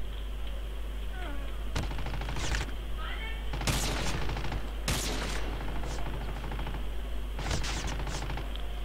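Gunfire bursts in the mobile shooter Call of Duty Mobile, several short loud volleys spaced through a busy, continuous game soundscape with faint meow-like effects in the background.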